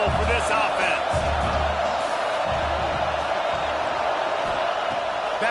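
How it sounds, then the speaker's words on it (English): Football stadium crowd roars steadily through the whole stretch, a loud continuous wash of noise with a commentator talking over it. "This crowd trying to make life miserable for this offense."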